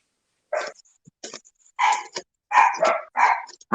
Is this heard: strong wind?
no